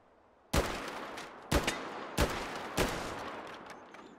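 Four separate semi-automatic shots from an HK G11 rifle in the VR game H3VR ring out at uneven intervals, each a sharp crack with a short decaying tail, no talking.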